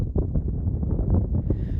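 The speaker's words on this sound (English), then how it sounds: "Woof, it is windy," Strong wind buffets the microphone outdoors beside a river, producing a steady low rumble with gusty surges that carries on without any talk.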